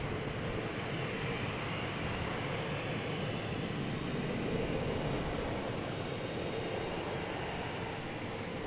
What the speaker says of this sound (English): We got American Airlines taxiing down here.